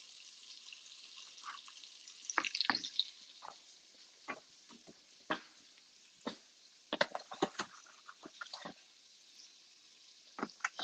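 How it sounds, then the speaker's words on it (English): Beef broth being poured into a pan of rice gives a faint steady trickle with scattered soft splashes and patters, and no talking. "So I think today I'm going to add some beef broth."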